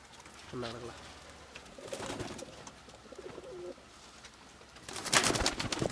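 White pigeons cooing inside a loft cage, soft throaty coos repeating at close range over a steady background hum, with a brief louder rustle or flutter near the end.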